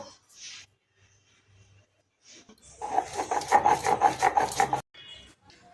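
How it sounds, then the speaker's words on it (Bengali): Poppy seeds with chili are ground by hand into a fine paste on a grinding stone, a rhythmic rasping rub of about a dozen quick strokes in one burst after a few faint scrapes. "এখানে দেবো পোস্ত। এটা আমি ভালো করে মিহি করে বেটে নেব।"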